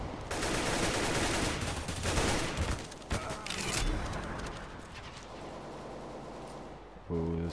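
Dense gunfire in a Counter-Strike: Global Offensive match, a loud, continuous fusillade of overlapping shots running for several seconds before easing off, with a sharper burst near the end.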